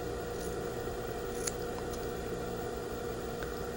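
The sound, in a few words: scissors trimming collar interfacing close to stitching line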